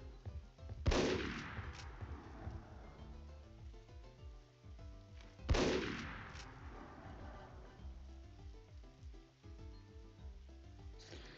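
Two sharp, loud gunshots from a Roblox game, about four and a half seconds apart, each followed by a long fading, ringing decay over a quiet musical background, with no talking.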